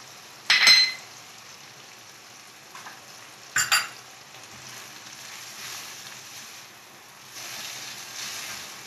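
Chicken and vegetables with salt and white pepper fry in a pan with a faint, steady low sizzle, broken by a couple of brief utensil clinks and stirring sounds.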